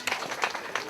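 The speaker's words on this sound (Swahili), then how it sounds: "Tuwapigie makofi wote wakitoka sasa" An audience at a youth initiative end-of-year party applauds students, giving a short, brisk patter of clapping at moderate volume.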